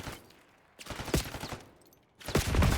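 Rapid automatic gunfire from Black Ops 6 ranked multiplayer, with loud close bursts of shots separated by a short lull and then a dense, heavy volley at the end.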